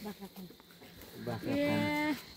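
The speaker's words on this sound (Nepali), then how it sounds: "बाख्रा फार्म" A goat on a goat farm lets out one drawn-out, nasal bleat near the end, following quieter talk and farmyard murmur.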